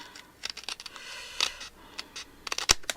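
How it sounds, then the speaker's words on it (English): Scissors snip through paper in a series of short, crisp cuts, irregularly spaced and close by, with quiet rustling between. "I'm just going to cut them with my scissors"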